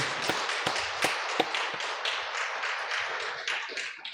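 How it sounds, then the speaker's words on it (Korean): A church congregation gives faint, scattered clapping at a Sunday service. It starts as a few separate claps and thickens into a soft patter of applause. "충렬이 우리 박수로 한번 격려해 주십시오."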